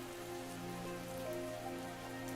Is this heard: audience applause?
no